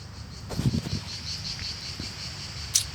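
Crickets chirp steadily outdoors at a picnic under trees, a continuous high trill with a few faint rustles and soft knocks nearby.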